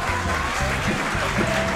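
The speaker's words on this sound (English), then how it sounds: "Big round of applause" A crowd at a Super Smash Bros. Melee tournament claps and cheers in a sustained burst of applause, dense and fairly loud throughout.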